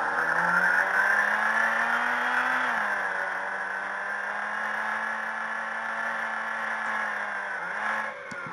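Car engine in the Unity Standard Assets racetrack demo, a loud continuous synthetic motor drone holding steady pitch, dipping slightly as the car changes speed, with no talk.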